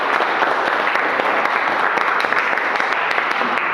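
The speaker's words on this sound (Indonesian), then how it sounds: "Oke, luar biasa. Di aplaus semuanya." A classroom full of students claps together in steady, dense applause that holds evenly for the whole stretch, with no voices rising above it.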